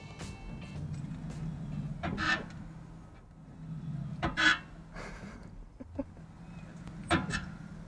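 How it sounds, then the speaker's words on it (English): The brakes of a 2021 Audi Q4 e-tron electric SUV give several short, separate creaks, like old floorboards, against a low hum of road noise. "The brakes make a weird creaking sound, like old floorboards in a haunted house."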